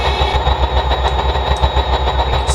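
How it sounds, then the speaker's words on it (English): Several marine engines running together in the Stormworks video game, a loud, steady low rumble with a pulsing throb and a faint high whine held throughout. "You can see those engines all of the engines are running."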